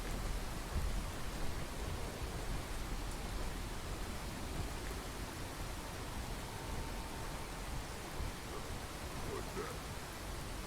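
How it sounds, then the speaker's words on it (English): Rain in Fallout 4 forms a constant broadband hiss with low rumble, steady and unbroken across the whole stretch, fairly quiet, with no clear speech over it. "this view's lousy in this rain"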